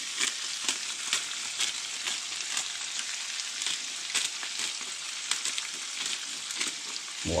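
Venison cutlets fry in a pan over lowered heat, giving a steady, close hiss of sizzling fat crackled with small pops, with no voices.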